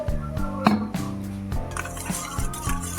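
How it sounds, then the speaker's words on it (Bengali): Water is poured into soy sauce in a kitchen and stirred, with light liquid splashes and repeated clinks of a spoon against a bowl, close and fairly quiet. "সয়া সস দিচ্ছি একটু এতে বেশি দেবো না এবার জল দিয়ে আমি একটু গুলে নিচ্ছি"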